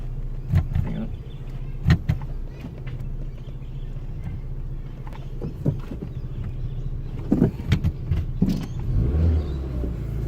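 An old Hyundai Excel car maneuvering and struggling in reverse, a low engine drone with intermittent clunks and knocks spread across the clip, with no talking.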